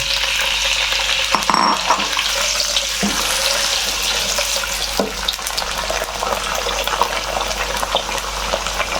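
Potatoes sizzling in hot oil in a pan for a jackfruit seed curry, a loud broad hiss and crackle running the whole time, with a few clinks and scrapes of stirring and no talking.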